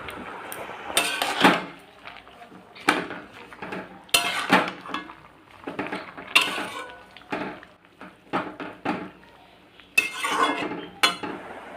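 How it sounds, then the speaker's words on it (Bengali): A spoon stirs lentils with freshly added bottle gourd leaves in a metal cooking pot, giving repeated scraping and clinking strokes that come in bursts with short pauses between them, close and moderately loud, with no talk. "এবারে সব কিছু ভালোভাবে একবার মিশিয়ে নেব"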